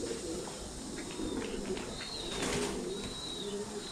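Pigeons coo steadily on a pigeon farm, with soft, continuous low calls filling the space and a few brief higher chirps and faint wing sounds over a constant background hum.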